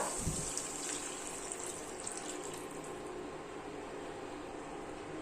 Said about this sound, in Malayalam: ആവശ്യത്തിന് വെള്ളം ചേർത്ത് കൊടുക്കുക.